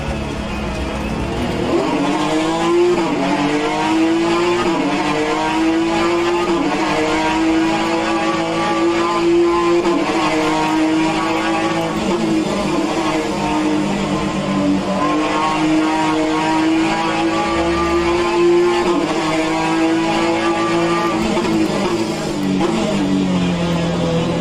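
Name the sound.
Alfa Romeo race cars racing at Mont-Tremblant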